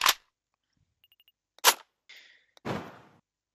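Gunfire in the video game Space Station 14: several sharp, loud shots ring out alone with short pauses between them, mixed with brief clicky and whooshing game effects.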